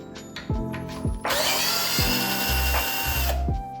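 Power drill unscrewing a bolt on a moped rear fork, close and loud: short whirring pulses, then a sustained high whine of the drill running for a couple of seconds before stopping.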